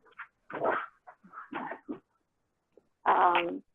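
A dog barks and yelps excitedly in a string of short, sharp, close bursts, with a brief pause before one last louder bark.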